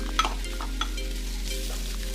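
Chopped garlic frying in a pan while being stirred, a soft continuous sizzle with a couple of quick utensil clicks near the beginning, no voices.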